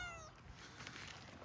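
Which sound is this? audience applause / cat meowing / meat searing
cat meowing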